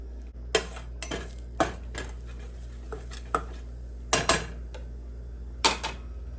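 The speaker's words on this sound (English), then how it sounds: "I'm gonna just put the seasonings in first and give those a toss in the pan" Seasonings being tossed in a pan for crispy beef tacos, a series of distinct metallic clinks and scrapes of a utensil against the pan at irregular intervals over a steady low hum, no talking.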